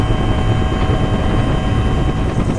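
Helicopter used for heli-skiing near Revelstoke, Canada, giving a loud, steady rotor and engine roar that fills the whole clip with no break.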